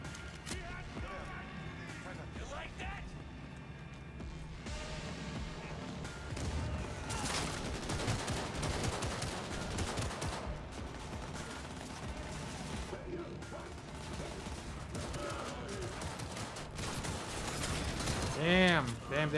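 Rapid gunfire in the action game Cyberpunk 2077 crackles in dense, overlapping bursts over a continuous game soundscape, loud and sustained throughout, with a sharper burst near the end.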